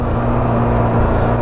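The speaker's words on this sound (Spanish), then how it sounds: "es una experiencia muy loca andar en la moto de nieve" A snowmobile engine runs steadily while riding, a loud, close, continuous low drone with a constant hum and no pauses.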